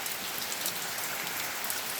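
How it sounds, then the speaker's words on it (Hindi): Rain falls steadily in a soft, continuous hiss of drops striking surfaces, even and unbroken throughout with no voices. "पूरा देखो, अभी भी बारिश स्टार्ट है पूरा।"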